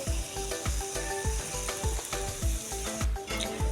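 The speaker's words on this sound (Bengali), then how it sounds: "আমি মাঝে মাঝেই একটু করে নেড়ে চেড়ে নিচ্ছি আচারগুলো।" Raw mango pickle sizzles and fries in a pan while a spoon stirs it in regular scraping strokes, a soft continuous crackle under rhythmic clinks, close and fairly quiet.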